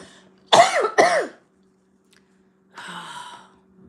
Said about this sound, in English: I hope my coughing isn't too loud